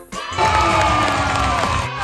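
A crowd at a Hot Wheels toy car race event bursts into loud, sustained cheering and shouting after a brief quiet start.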